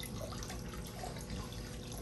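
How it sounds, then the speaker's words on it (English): Water siphons through a small tube inside PVC, a steady close trickling and gurgling flow that runs continuously on its own. "It's only siphoning a little bit because it only siphons as much as that through that little tube."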